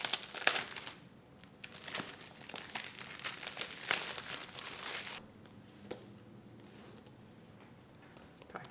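Plastic and paper packaging from a space gray HomePod mini unboxing crinkles and rustles close by, busier and louder in the first half, then settling into softer, sparser handling noises.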